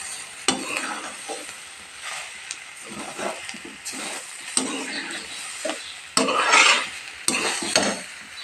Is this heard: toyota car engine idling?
no